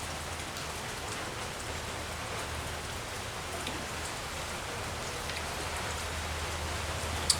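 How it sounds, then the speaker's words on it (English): Steady rain falls on a surface as a constant, even hiss throughout, with no voices and only a single sharp tick near the end. "Here comes the rain again."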